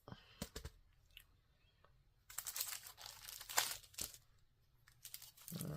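Scissors snipping and paper crinkling while small labels are cut out from book page edges, a series of close, soft cuts and rustles alone.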